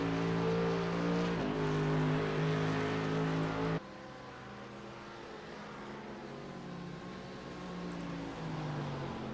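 GTE and GT3 race cars lapping at Sebring, a steady engine drone with shifting harmonic tones as cars run close together, holding fairly level with a drop partway through as one car pulls away.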